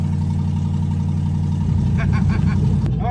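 A 1970 Plymouth Superbird barn find idles steadily as it warms up, a continuous low engine rumble throughout with a brief sharper burst near the end.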